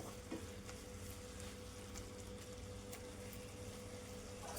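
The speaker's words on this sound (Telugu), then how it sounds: "ఆయిల్ అనేది సపరేట్ అయ్యే వరకు ఫ్రై చేసేస్తాను." Amaranth leaves with plenty of garlic fry and stir in oil in a home kitchen pan, a steady broadband sizzle under close scraping and stirring clicks, with no talk.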